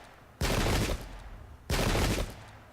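Two loud musket volleys in a Pike and Shot English Civil War battle at Adwalton Moor, each a massed crackling burst lasting about half a second, roughly a second apart.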